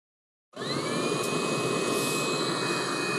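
A Webasto-type heater driven by a 12/24/240V ECU kicks in after a brief silence. It settles into a steady, loud blowing roar with a thin whine that rises to a constant pitch.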